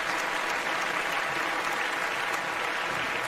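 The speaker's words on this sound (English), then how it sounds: "give a big gum round of applause" Steady applause from a crowd, dense clapping throughout at an even level.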